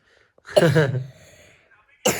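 A single harsh cough from a person with a cold bursts out close by, followed by a short rasping tail, then silence before another sound starts.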